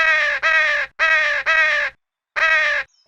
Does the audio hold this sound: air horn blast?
no